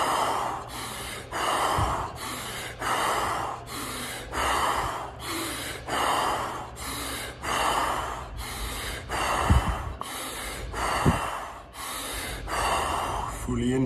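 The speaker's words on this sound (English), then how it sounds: "breathe as deep and as fast as we can for 10 times" Deep, fast pumping breaths during a guided breathing exercise, about ten rhythmic forceful in-and-out cycles, close and loud, each one a sharp gasping rush of air.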